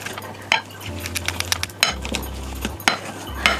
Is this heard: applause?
no